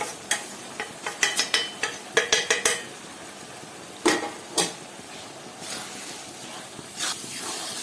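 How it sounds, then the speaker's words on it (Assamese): Spices fry in a pan with a soft sizzle for a goat meat curry, punctuated by scraping and clinking as a spoon stirs against the metal; no talking. "মই এই মছলা সামগ্ৰীখিনি গোটেইখিনি দি দিছো লগতে মই ভাজি ল'ম গোটেইখিনি"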